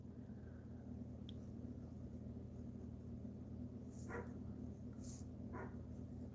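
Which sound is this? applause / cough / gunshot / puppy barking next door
puppy barking next door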